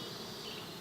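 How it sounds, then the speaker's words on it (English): A dense cluster of honeybees buzzes on the ground beside a hive, a continuous, close, droning hum with no voices. "Quite a bit of bees on the ground, quite a cluster right there, as you can see."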